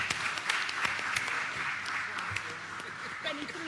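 Applause at a school board meeting in a hall, a scattered crowd clapping steadily at moderate level, with some murmured voices underneath.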